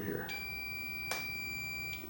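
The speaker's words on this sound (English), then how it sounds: "That beep indicates that it is connected." A thin, high-pitched multimeter continuity beep holds steadily for over a second and a half while testing a VCR circuit, with faint background noise and a brief click in the middle.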